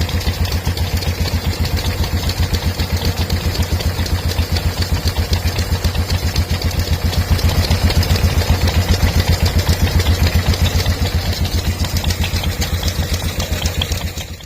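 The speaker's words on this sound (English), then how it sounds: "Lister motorbike." A vintage Lister motorbike engine idles at a rally near Gloucester, a steady, close, rhythmic low chugging that holds an even pace throughout, with no voices.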